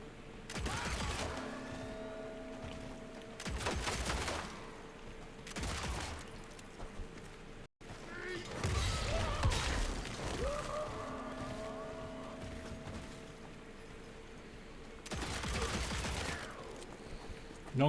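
Pistol shots and combat noise from the action game Evil West, coming in several loud clustered bursts separated by quieter stretches of engine-like rumble, with no speech.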